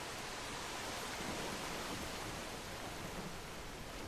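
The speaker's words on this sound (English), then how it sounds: "That sounds like a busted pipe, not rain." Continuous roaring rush of water gushing from a burst pipe in a simulation video game, dense and even, steady and loud throughout with no voices.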